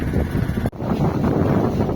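A steady wind gusts across a sailboat at sea, roaring loud and close over the microphone, with one brief dip partway through.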